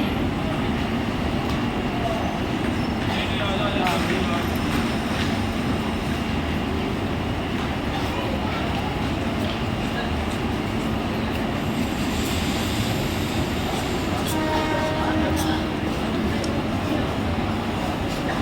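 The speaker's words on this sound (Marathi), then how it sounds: "प्लॅटफॉर्म क्रमांक 1 पर आई हुई लोकल 7:44 की अंबरनाथ जाने वाली ही लोकल है।" Mumbai Central line local train bound for Ambernath at platform 1 at night, a continuous rumbling roar with rattling clatter, mid-distance and steady, with a station announcement voice and crowd murmur beneath.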